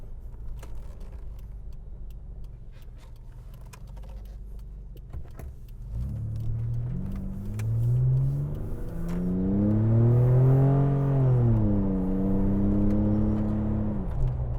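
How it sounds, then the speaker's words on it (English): A Mitsubishi Pajero Evolution starts up, then its engine revs up and down while driving, with a rising, throaty pitch that swells loudly around the middle before easing off. It is heard inside the cabin with no talking. "they don't usually make this kind of noise, these cars, but this one most certainly does"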